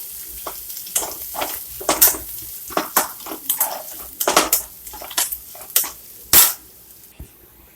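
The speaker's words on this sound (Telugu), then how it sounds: "మొత్తం కలుపుకుందాం ఫ్రెండ్స్" Egg fried rice being stirred in a pan with a metal utensil: a steady sizzle runs beneath irregular sharp scrapes and clanks of spatula on pan, several of them loud, spread across the whole stretch.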